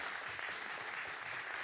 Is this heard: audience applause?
yes